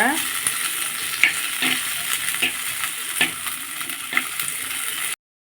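Small onions and garlic sautéing in hot oil for a Tamil kathdhaalai kara kulambu, a steady close sizzle and frying crackle with periodic spoon stirs and scrapes, no voices, cutting off abruptly near the end.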